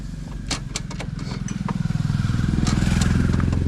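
A motorcycle engine starting in neutral, a few clicks and clatters giving way to a steady, rising close-up putter that settles into a rhythmic idle.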